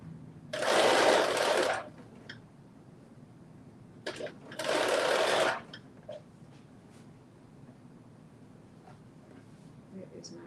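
A sewing machine stitches fabric in two short loud bursts, each lasting about a second, separated by a quiet pause, close by with faint room noise between.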